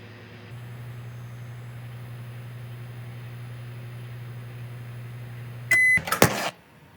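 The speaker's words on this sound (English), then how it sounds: "And also now you can make an egg in a microwave." A microwave oven cooking an egg hums steadily for several seconds, then beeps as it stops and the door clatters open, close and clear with no talk.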